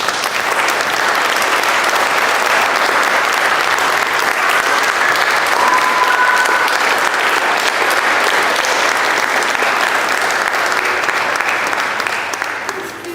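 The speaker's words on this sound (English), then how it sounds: "Please give him a round of applause." Sustained, dense applause from a large crowd at a public event, steady and loud for over ten seconds with little variation before tapering slightly at the end.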